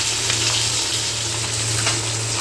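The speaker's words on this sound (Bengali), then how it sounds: "দেখো আমাদের কই মাছ কিন্তু ভাজা হয়ে গেছে, 2 পিঠই আমরা ভালো করে ভেজে নিয়েছি" Koi fish frying in hot oil gives a steady, dense sizzle that holds at an even level throughout, close by, with no talking.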